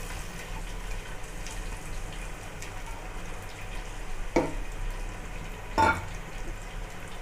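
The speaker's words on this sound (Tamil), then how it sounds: "நான் 2 வெங்காயம் பொடியே கட் பண்ணி வச்சுட்டேன், அதையும் சேர்த்துக்கேன்." Chopped onions fry in a pan for mutton curry, giving a soft, steady sizzle with a couple of brief stirring scrapes and clinks.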